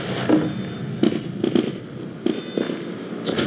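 Gunfire and explosions from the game Team Fortress 2 on the 2Fort map, a series of sharp booming bursts and crackles spaced irregularly, fairly loud.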